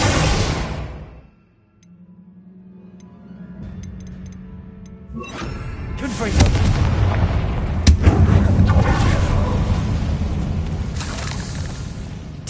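A Bombarda blasting spell in the video game Hogwarts Legacy detonates with a loud booming explosion, followed by rumbling debris and crumbling rubble that swells and lingers.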